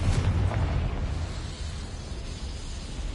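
Confringo blasting spell exploding, a deep booming burst at the start that fades into a low rumbling tail.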